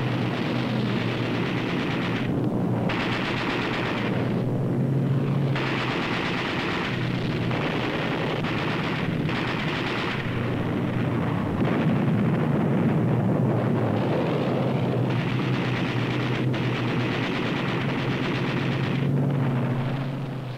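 Dense, continuous roar of WWII aerial combat around American B-17 Flying Fortress bombers during daylight precision bombing, with heavy gunfire bursts and explosions layered over a constant engine drone, loud and unbroken throughout.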